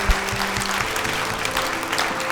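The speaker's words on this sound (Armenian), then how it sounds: "Այստեղ էլ ծափարեցինք քեզ" A studio audience at a talent show audition applauds warmly for a child contestant, sustained even clapping with a faint musical tone running beneath.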